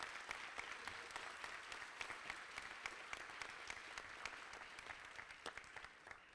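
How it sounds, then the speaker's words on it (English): An audience at a transit advocacy group's annual meeting claps for transit operators and front-line workers, producing sustained applause with many sharp individual claps that carries on steadily and trails off slightly at the end. "We can clap it up for our operators and people on the front lines that make everything work."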